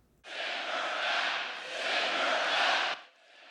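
A crowd at a campaign rally in North Carolina chants in unison, a loud, sustained mass of voices lasting a few seconds before cutting off abruptly, with no other speech over it.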